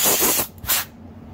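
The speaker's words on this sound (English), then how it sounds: "spray that out with gum out" Two short, loud hissing bursts of Gumout spray cleaner shot into a Craftsman riding mower carburetor, the second briefer, followed by quiet.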